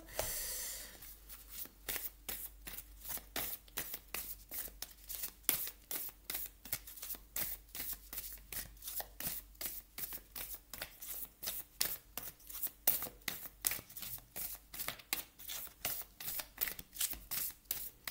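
An oracle card deck being shuffled by hand in a long run of quick, crisp riffling bursts, steady and close, with no voices.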